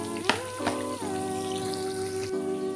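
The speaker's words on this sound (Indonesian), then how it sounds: "Sementara nunggu tahu dan kentang digoreng" Tofu and potato pieces frying in hot oil, a steady close sizzle with a few sharp pops near the start and no voices.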